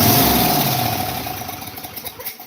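A small engine, primed with starting fluid, runs with a loud steady roar that gradually fades and grows rougher and more sputtering toward the end, with no voices.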